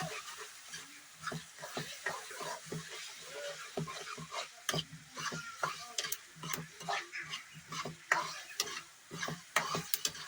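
Peas being stirred into sizzling fried tomatoes in a pan for a Kashmiri pea and tomato curry, with a spoon scraping and clacking in quick irregular strokes over a steady close frying hiss.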